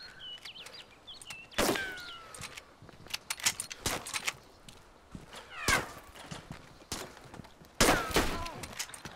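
Gunfire in the video game DayZ, several sharp loud cracks spaced a few seconds apart amid shuffling movement and background game noise, with players talking between shots.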